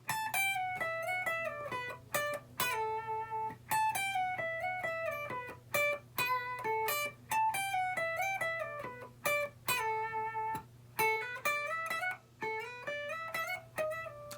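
A distorted electric guitar plays the fast lead solo from a song, notes sliding up and down, in bursts with short breaks, loud and alone.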